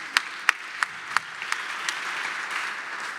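An audience at an academic symposium applauds: about six distinct, evenly spaced claps ring out, then they blend into a soft, steady patter of clapping from the room.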